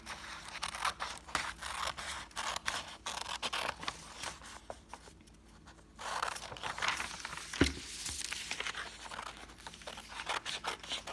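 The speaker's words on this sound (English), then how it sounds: "use the hand that you do write with to cut out Map Man" Scissors cut paper pieces for a Mat Man figure in a rapid series of crisp snips and crinkles. A brief quiet pause interrupts them before the cutting resumes close by.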